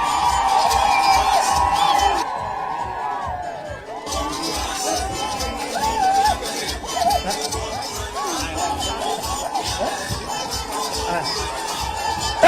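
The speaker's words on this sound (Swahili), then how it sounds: "Wapi vigelegele wapi?" A crowd at a Kenyan political gathering in the United States ululates and cheers loudly, a sustained high trilling over shouting and babble that drops briefly and then surges again.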